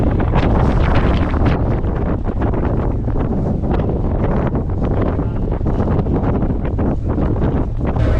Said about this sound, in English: Really is windy out here, folks.